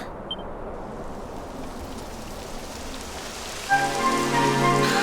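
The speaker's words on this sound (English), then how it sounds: "It would have to go and start raining, wouldn't it?" Steady rain falling in the Dragon Quest XI S video game world, a soft continuous hiss that later gains pattering detail as a tonal in-game sound layer joins underneath.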